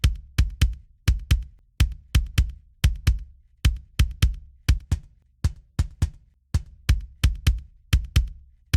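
A Modern and Massive kick sample layered with Drum Forge kick 9 repeats as a loud, steady rock pattern of paired and single thumps, each with a crisp attack and a deep, short low end, playing solo with no voices.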